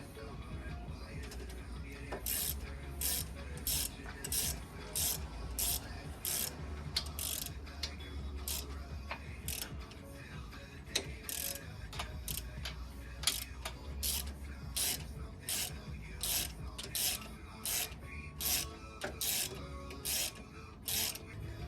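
Socket ratchet clicking in rapid repeated strokes as it turns bolts while fitting a Superlift suspension kit on a Ford Ranger, close and fairly quiet, with brief pauses and a faint low background hum.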